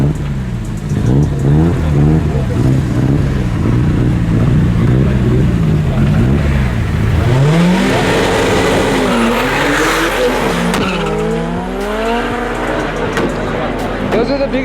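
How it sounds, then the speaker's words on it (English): A Porsche 911 Turbo S and a Toyota Corolla race with loud engines revving and rising through the gears, joined by tire squeal and sharp popping backfires under a commentator's steady talk. "Those are the biggest backfires I've ever seen in my life."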